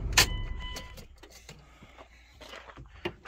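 A 1999 Dodge Durango SLT shutting down after sitting abandoned for 14 years, heard as a sharp click and thump followed by faint jangles and small mechanical clicks inside the cabin.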